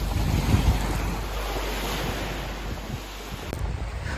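Strong wind buffeting the microphone over steady rolling surf at a beach, a loud continuous rush with no voices.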